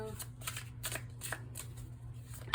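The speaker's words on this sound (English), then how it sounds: "now I'm going to pull 3 tarot cards for you guys" Tarot cards being shuffled by hand in rapid riffling bursts, a repeated papery flutter close up, about five or six quick shuffles over a low background hum.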